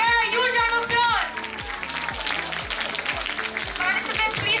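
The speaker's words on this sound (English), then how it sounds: "Let's hear a huge round of applause." An audience at a STEM challenge prize ceremony breaks into steady applause for the winners, after a sustained sung or musical note fades out, with music pulsing underneath the clapping.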